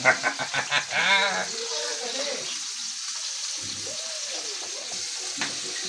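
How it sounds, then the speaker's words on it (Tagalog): Chicken feet frying in spattering oil give a steady crackling hiss under speech at the start. The frying continues alone afterward at an even, moderate level. "Nananaboy na naman ang mantika."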